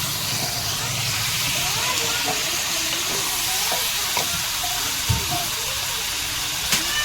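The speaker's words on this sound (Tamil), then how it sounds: "நம்ம ஒரு 1/2 கிலோ கறி எடுத்து வச்சுக்கோம், மட்டன். அதை போட்டு நல்லா வதக்குவோம்" Half a kilo of mutton sautés in a pan with onions, hissing in a loud, dense, continuous sizzle with occasional stirring knocks close by.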